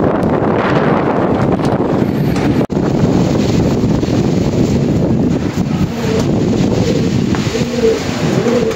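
Strong wind buffets the microphone in a steady, loud roar that fills the clip, with faint pigeon cooing heard underneath.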